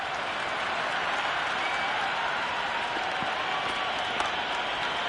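Stadium crowd cheering and applauding at an Ashes test match in the cricket video game Cricket 26, a dense, steady roar of many voices and claps heard at a distance without a break.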